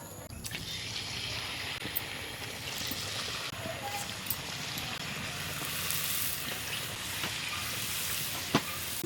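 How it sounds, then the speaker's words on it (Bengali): Mango gokul pitha fry in hot oil in a kadai, a steady close bubbling sizzle with occasional sharp crackles and pops, one louder pop near the end, and no talking. "কড়ার মধ্যে তেল দিয়ে দিয়েছি তেল গরম হয়ে গেছে এবার আমি তেলের মধ্যে এগুলো ভেজে নেব"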